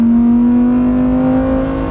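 Lamborghini Huracan STO V10 holds a high, steady rev with its exhaust baffles open, a loud, dense, sustained engine note heard close up with no speech.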